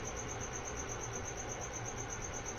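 An outdoor cricket chirps loudly in a fast, steady pulsing trill that runs unbroken throughout, over a constant background hiss.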